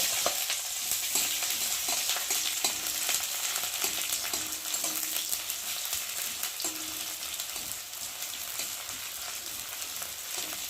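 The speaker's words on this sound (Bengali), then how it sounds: "দিয়ে এখন এই পেঁয়াজগুলোকে একটু ভালো করে ভেজে নেব।" Onions frying in oil in a kadai, a steady close sizzle with occasional stirring scrapes throughout, no voices.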